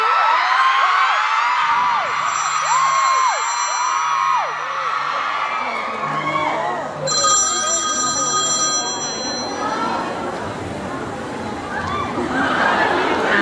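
Telephone ringing unanswered in a Thai stage comedy, a warbling electronic ring repeating in several bursts over a steady background, with a second brighter ringing tone joining partway through.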